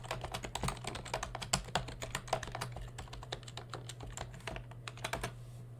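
Quick, uneven clicking of a computer keyboard as a login and password are typed, a steady run of near, crisp keystrokes over a faint hum, no talking.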